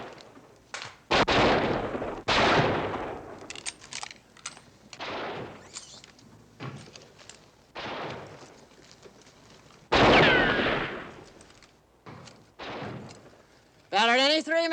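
Cannon fire in a 1950s western film, several loud booming blasts spread across the scene with silent gaps between them, and a brief whistling sound near the end.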